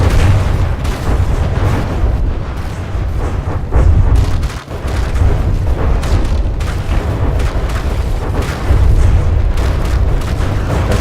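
Missile and torpedo explosions in a naval battle video game, a dense, loud barrage of booming blasts and impacts rolling one after another with little pause.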